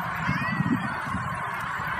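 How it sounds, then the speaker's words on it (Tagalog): A crowd of ducks honks and quacks in a dense overlapping chorus, with a few louder calls standing out from the steady group noise. "Ang daming duck, ang dami."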